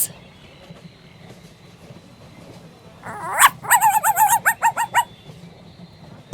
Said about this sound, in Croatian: Pas.